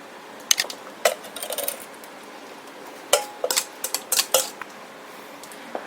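Sweet potato egg casserole mixture is scooped into a sprayed casserole dish, with scattered clinks and scrapes of a utensil against the dish coming in short bursts, close by, with no voices.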